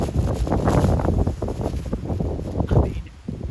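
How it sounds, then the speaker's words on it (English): Strong wind gusting outdoors in the countryside on a very windy, rainy day, roaring steadily against the microphone as trees toss, with no talk. "Look at those trees, how windy it is."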